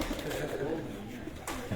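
Pigeons cooing close by in a rooftop loft, soft throaty rolling calls continuing over a bed of background noise, with a voice speaking faintly underneath.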